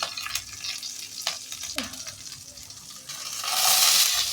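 Potatoes fry with green chillies and panch phoron in hot oil, making a steady sizzle broken by scattered clinks and utensil taps that rise to a louder hiss near the end, with no talk.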